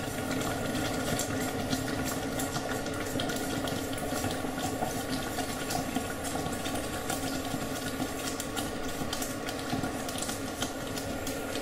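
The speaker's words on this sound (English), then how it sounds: "Now use a whisk" Jaggery mixture whisked in a pan, a steady close bubbling and scraping churn that runs without pause over a low background hum.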